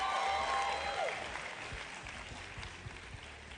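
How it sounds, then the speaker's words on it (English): Audience applause at the Mister South Africa 2024 grand final, a crowd clapping that starts loud under a fading tone and thins into scattered claps over a few seconds. "Give him a round of applause,"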